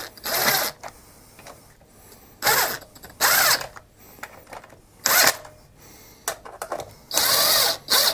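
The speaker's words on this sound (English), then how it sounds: "if you're going to run an impact like this, always start your bolts first" An impact wrench snugs up bolts on a Harbor Freight Tailgator generator in five short, loud, rattling bursts of a second or less, separated by quiet gaps.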